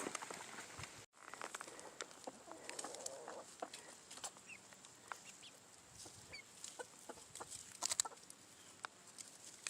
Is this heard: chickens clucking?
yes